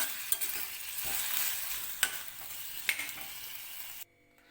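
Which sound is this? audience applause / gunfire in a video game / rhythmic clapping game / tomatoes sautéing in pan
tomatoes sautéing in pan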